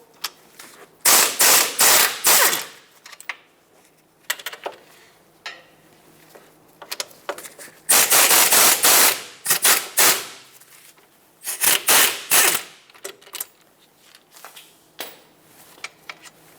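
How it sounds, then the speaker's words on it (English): Two 17mm caliper bracket bolts come off the steering knuckle of a 2014-2021 Mazda 6 during front hub work. Loud, close mechanical bursts come in several separate runs, with quieter clicks and clanks between them. "Let's take the two 17mm bolts off that hold the caliper bracket onto the knuckle."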